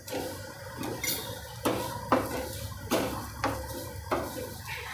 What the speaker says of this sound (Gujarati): હવે આપણે આ ઘી ગરમ થઈ જાય પછી એમાં સેવ નાખી દઈશું હવે એને આપણે શેકી લેવા